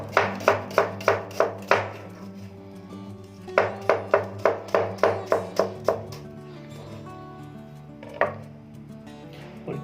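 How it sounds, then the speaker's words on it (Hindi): A knife chops through onions on a board for chicken vegetable spaghetti, with quick bursts of sharp, evenly spaced cuts, a pause, another fast run, then a lone strike, all loud and close over a soft background hum. "अभी 2 अदद प्याज ले लिए हमने और ये काटेंगे अब।"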